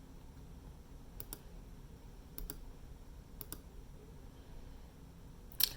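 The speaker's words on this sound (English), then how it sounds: "I'm just gonna click undo for a while now" Sharp, faint computer mouse clicks repeat in pairs at an even pace over a quiet room hum, with one louder click at the end, used to undo steps in budgeting software.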